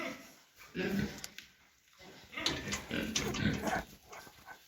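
A sow grunts in low snorting bursts, close by, amid rustling movement and a faint background hum, while being checked for heat.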